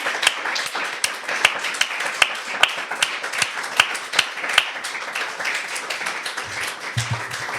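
A small audience at a book talk gives a round of applause, individual claps sharp and distinct in a quick, uneven rhythm, thinning out toward the end.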